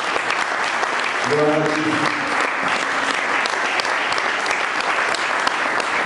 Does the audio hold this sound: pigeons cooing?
no